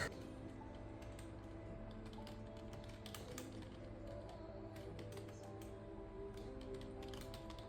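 Quiet, close typing on a computer keyboard, with quick irregular key clicks and a few sharper strikes running steadily over a low background hum.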